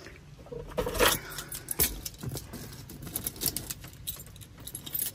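Keys jangling close by, a loose bunch of metal keys clinking and rattling in several bursts, loudest near the start and again midway, with light handling noise in between and no talking.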